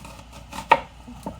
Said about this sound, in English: And then you just give them a chop this way